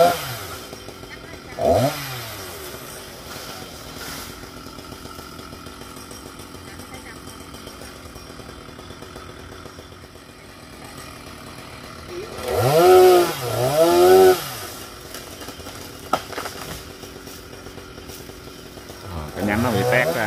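Chainsaw cutting through a Săng Máu tree branch, the engine running steadily throughout with revving bursts near the start and middle, and a person speaking at points.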